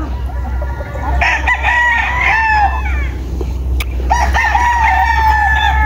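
Young roosters (stags) crow loudly nearby in two long back-to-back calls, each a rising then falling crow, over a constant low rumble.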